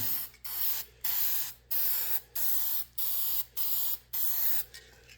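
Enamel spray paint hissing onto a guitar body in seven steady bursts of about half a second each, separated by short pauses, close and loud with no voices.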